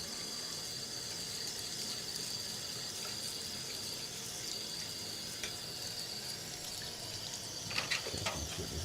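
Water runs steadily over a printer printhead while it is rinsed by hand, giving a continuous close hiss of flowing water with a few brief clatters near the end.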